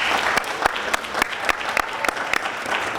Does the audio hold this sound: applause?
yes